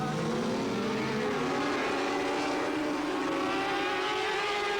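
Racing cars in a British championship race produce a steady, loud, droning engine roar, with higher engine whines layered over it, and no pauses.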